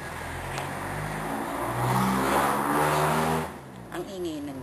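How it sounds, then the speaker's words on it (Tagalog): A jeepney passes close by on a street, its engine droning loud and steady before fading, with faint voices in the background. "Ang ingay ng jeep."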